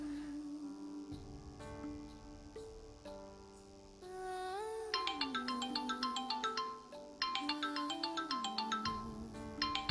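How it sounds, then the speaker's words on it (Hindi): A phone ringtone for an incoming call plays a looping electronic melody of repeated bright chiming phrases, loud and alone, getting fuller after the first few seconds. "सार का फोन आ रहा है।"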